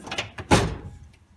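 A metal drawer of a US General tool chest slides open with a short rolling rattle that ends in a single sharp clunk, close by, followed by quiet.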